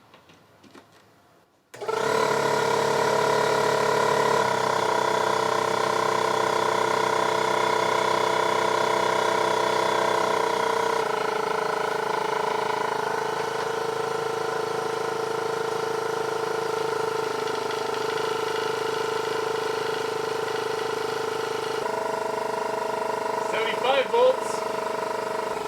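Air compressor powered by an EcoFlow RIVER Pro inverter starts abruptly and runs with a loud, steady mechanical drone and rattling hum, nearby and continuous, with faint squeaks near the end.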